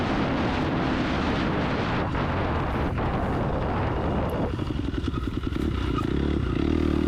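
KTM 250 XC-F dirt bike engine revving hard at high speed during a race, a loud, steady, continuous roar with rough clatter from riding over the course.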